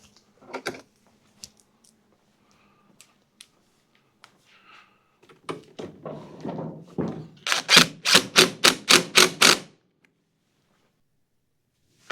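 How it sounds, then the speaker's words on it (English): Two screws being driven back into the handle cover of a TroyBilt TB360 mower, heard as scattered faint clicks and handling taps followed by a rapid run of about eight close, sharp ratcheting clicks that then stop. "And then we've got our two screws to put back in."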